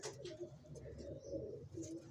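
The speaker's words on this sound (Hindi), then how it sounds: "परेल कबूतर है, बंद टेल है इसकी" Paral pigeon with a closed tail, low soft cooing repeated through the moment, quiet and near.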